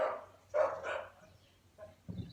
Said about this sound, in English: they've got a bunch of staffies around there. I mean, they always sound rough.